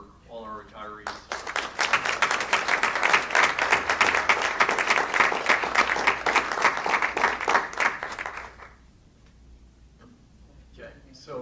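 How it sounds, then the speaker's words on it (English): An audience at a school district board of education meeting gives retiring staff a loud, steady round of applause that lasts about seven seconds, then stops abruptly, leaving a quiet room with faint sounds. "So once again, one final applause for all our retirees."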